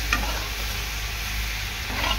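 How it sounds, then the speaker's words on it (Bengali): Poppy seed paste being stirred into ridge gourd in a hot pan gives a steady, even sizzle with a soft scrape near the start and end, close up and continuous, no voices. "পোস্ত দিয়ে ভালো করে নাড়াচাড়া করে নেব।"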